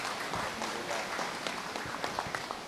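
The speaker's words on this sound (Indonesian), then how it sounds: "Tepuk tangan dulu yang meriah untuk Pak BHS." An audience at a ceremony gives a speaker a round of applause, a soft, steady patter of many hands clapping at a distance.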